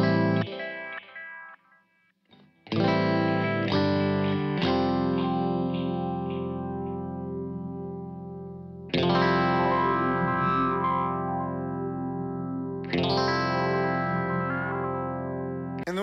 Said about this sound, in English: We have what's called a sweep echo.